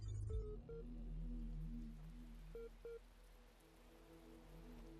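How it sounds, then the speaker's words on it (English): Steady rain hiss in the dark, rainy world of the puzzle game The Talos Principle, a continuous moderate wash with low droning ambient tones and a few brief tonal blips over it, no voices. "All dark and rainy."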